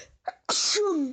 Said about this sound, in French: Excusez-moi. À tes souhaits.